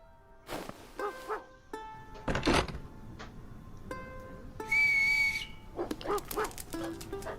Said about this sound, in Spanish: Ese es mi perro Toby.